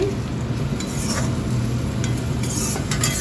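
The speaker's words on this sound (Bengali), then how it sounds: "তরকারিতে কিন্তু চিংড়ি মাছটা দিয়ে দিচ্ছি" Shrimp goes into a curry already cooking in a pan, giving a loud, continuous close sizzle with faint clinks of a utensil over it.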